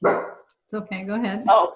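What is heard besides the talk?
dog barking in backyard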